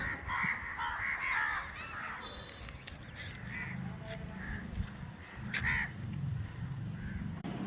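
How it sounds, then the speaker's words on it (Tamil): A large flock of crows gathered in one spot, waiting to bathe, caws repeatedly in overlapping harsh calls, several birds near and others farther off, with brief quieter gaps between bursts. "இவ்வளோ காக்காக்கள் ஒன்று கூடி இருக்கிறதுக்கு காரணம் என்ன"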